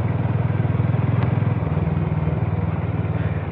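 A Harley-Davidson X440 cruiser is ridden with its engine running close and loud, its pulsing rhythm steady and even throughout, with a brief rattle partway through.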